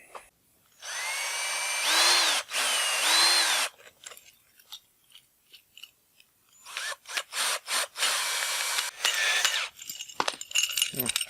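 A cordless power tool tightens a hose fitting for a Honda WB20XT water pump in several short whirring bursts, separated by pauses with small handling clicks and rubbing.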